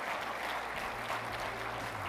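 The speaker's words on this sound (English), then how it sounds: "Keep clapping till he gets here." A crowd applauds the arrival of Rwanda's Minister of Education, Gaspard Twagirayezu, at the INGSA 2024 opening ceremony, with steady, dense clapping sustained throughout.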